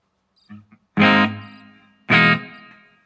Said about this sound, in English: Sounds kind of like a hall reverb